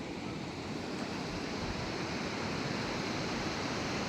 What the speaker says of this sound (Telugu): అలలు చూడండి ఎంత పెద్ద పెద్దవి వస్తున్నాయో